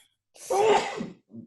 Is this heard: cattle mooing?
no